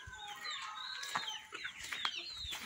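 Chickens cluck inside a backyard coop at a Brazilian farm, a steady overlapping chatter of several hens, close and moderately loud with no talk.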